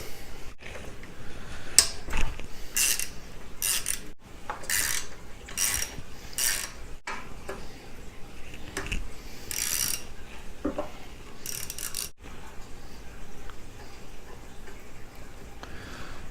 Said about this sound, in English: you want to remove the mount bolts for the valve cover